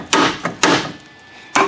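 A brass hammer strikes aluminum spindle parts on a Buick being torn down. Three loud, close blows land in quick succession, then a pause and a fourth hit.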